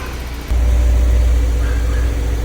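A BMW E30 with the M42 four-cylinder engine idles low, a steady loud rumbling drone that steps up and then holds even, with a slight rough tone from a fuel leak at the tank.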